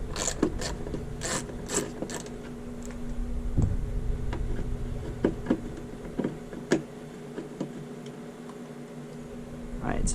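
Rapid ratcheting clicks from an 8mm socket ratchet backing out a taillight cover screw on a car, close and crisp in repeated bursts, with a few short pauses and a steady hum beneath.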